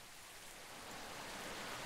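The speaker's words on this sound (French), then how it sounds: "on sent qu'il y a une pluie plus forte qu'avant" A heavier downpour from a Unity Rain Maker game asset makes a faint, even hiss of rainfall that builds slightly and runs steadily without pause or voices.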